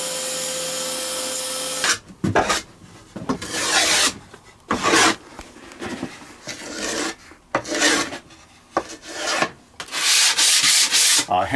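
Sandpaper rubs against MDF in close, loud bursts of rasping strokes, irregular in rhythm with short pauses between them, after an opening couple of seconds of steady machine hum.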